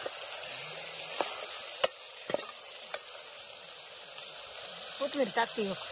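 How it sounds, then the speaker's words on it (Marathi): Goat mutton stirred and fried in oil with salt in a pan, a steady sizzle with a few scraping stirs, close and moderately loud, with brief voices near the end. "अगदी बोकडाचं मटण टाकून घेतलंय आणि परतायचं चाललंय तेला मिठात"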